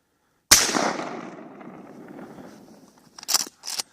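One close, loud 12 gauge blast from an Ithaca 37 Featherlite pump shotgun fired outdoors at shrubs, with a long echoing decay. A few sharp clicks of the pump action follow.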